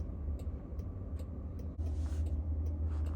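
Inside a Waymo self-driving robotaxi on the move, a steady low road rumble and cabin hum carries on throughout, with faint intermittent ticks and a slight lift in the drone partway through.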